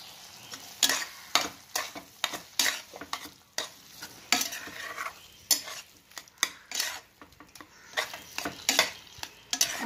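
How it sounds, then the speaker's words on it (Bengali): A spoon scrapes and stirs chopped long beans in a pan with cooker water added, repeated clinks and scrapes over a soft steady sizzle as the liquid cooks off, close and clear with no talk. "ভালো করে নাড়াচাড়া করে জলটা আমি শুকিয়ে দেব"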